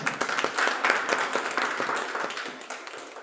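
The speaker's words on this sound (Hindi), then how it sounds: "तो एक बार श्याम जी के लिए तो तालियां।" Steady audience applause, many hands clapping in a dense, continuous wash that tapers slightly toward the end.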